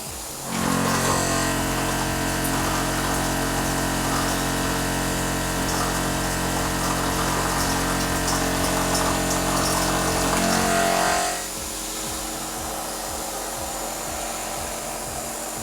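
A Tormach Superfly fly cutter face-mills aluminum at 2,500 RPM, 75 thousandths depth and 30 inches a minute, giving a loud steady machining roar with hum for about eleven seconds before dropping back to lower machine noise.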